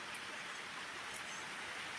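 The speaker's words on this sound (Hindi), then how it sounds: "देखिए चारों तरफ बारिश लगी हुई है" Light rain falling outdoors under cloudy skies, a soft, even hiss that holds steady throughout with no voices.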